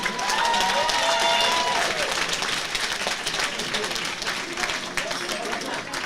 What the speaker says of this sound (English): Let's hear a big round of applause, ladies and gentlemen, for both boxers, for Toby and Dylan